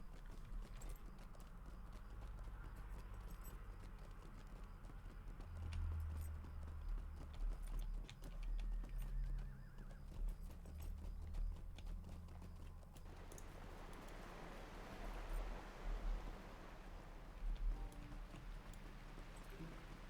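Horse hooves clip-clop at a steady trotting rhythm in the online role-playing game Lord of the Rings Online, set in West Rohan, close and continuous for the whole stretch with a shift in the background ambience partway through.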